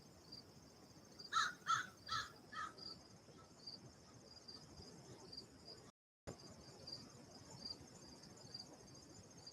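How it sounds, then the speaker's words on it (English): A crow caws four times in quick succession, fairly faint and distant, over a steady chorus of night insects that carries on throughout. "that's a crow"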